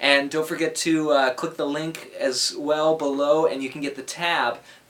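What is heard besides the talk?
No everyday noise stands out behind the speech.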